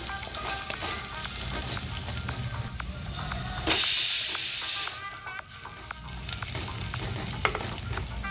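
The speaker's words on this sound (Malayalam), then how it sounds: "ചെറുതായി അരിഞ്ഞ ഒരു ഇരുപത്തഞ്ച് ചെറിയ ഉള്ളി മീഡിയം സൈസ് ചെറിയ ഉള്ളിയാണ് ഞാൻ എടുത്തിട്ടുള്ളത് അതുകൂടി ചേർത്ത് നമുക്കിതൊന്ന് നന്നായി വഴറ്റിയെടുക്കാം" Chopped small shallots sauté in hot oil, giving a loud, continuous sizzle with stirring scrapes and a brief surge of hissing partway through, heard close and alone.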